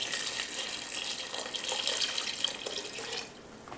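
Water runs from a tap in a steady hissing stream, filling a pot nearby, then tapers off near the end.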